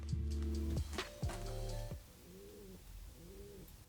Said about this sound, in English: there is a lot of pigeons living there and they make their annoying pigeon noise all the time.